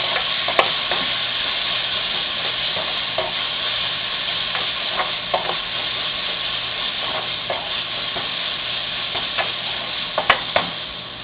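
Ginger garlic paste sautés in a hot pan for rajma curry. A loud, continuous sizzle crackles close up, with occasional sharper pops and no voices.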